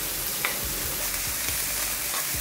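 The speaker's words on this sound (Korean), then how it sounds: "베이컨도 넣고 같이 볶아줍니다." Vegetables and bacon fry in melted butter in a frying pan, giving a continuous close sizzle with a few soft scraping stirs over it and no talk.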